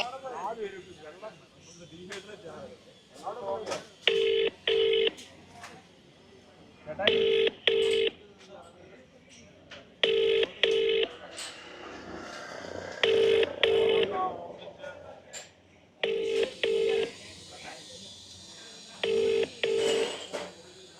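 Phone call tones sound as a call to a busy or unanswered number goes through, with short pairs of beeps repeating every few seconds under a recorded voice and talk.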